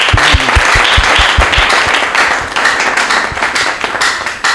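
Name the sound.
applause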